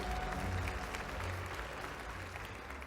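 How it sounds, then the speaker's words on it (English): Audience applause for regional winners at an African awards ceremony, a continuous rustling wash of clapping from a crowd, even in level from start to finish. "One more round of applause for all our regional winners and their inspiring work"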